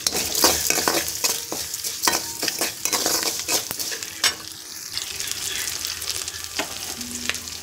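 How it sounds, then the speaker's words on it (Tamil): Onions sauté in a hot pan with a steady close sizzle, broken by repeated sharp scrapes and clicks of a stirring utensil against the metal, no one speaking. "வெங்காயத்தை நல்லா வதக்கிக்கலாம்."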